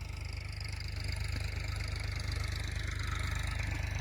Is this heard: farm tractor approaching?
yes